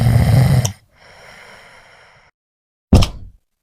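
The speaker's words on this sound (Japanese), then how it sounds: "ねえ、ねえ、いびきうるさいんだけど" A tired man, a night-shift nurse, snores loudly at close range in a bedroom: a heavy rasping snore, a quieter drawn breath, then a short, sharp snort after a pause.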